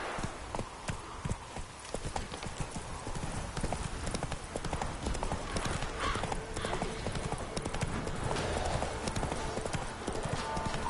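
Horse hooves clip-clopping in a steady galloping rhythm in The Witcher 3, loud and continuous throughout, with occasional whinnies and a voice talking over it at times.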